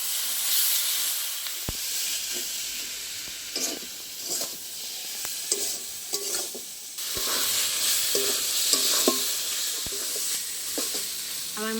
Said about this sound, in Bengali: আবার ভালো করে কষিয়ে নেবো সব একসাথে।